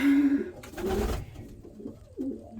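Soft low cooing from doves or pigeons, a few gentle murmuring calls close by with brief rustling in between.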